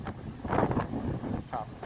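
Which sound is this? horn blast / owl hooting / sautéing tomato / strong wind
strong wind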